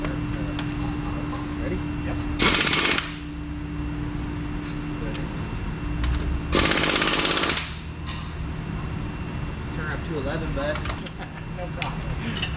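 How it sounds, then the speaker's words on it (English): Two loud bursts of rapid metallic hammering on a pin in the hardnose of a Cat D10R dozer, each lasting about a second, over steady machinery hum with people talking nearby. "hammer that pin out that direction"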